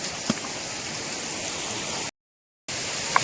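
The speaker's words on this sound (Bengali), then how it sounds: "কিন্তু এবার জল শুনলাম অনেক" Rushing river water in the Yelbong River canyon, a steady broadband wash of flowing water heard close, briefly cut to silence midway before resuming.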